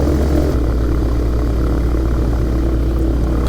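A microlight aircraft's propeller engine runs steadily on the runway before takeoff, a loud, close, continuous drone.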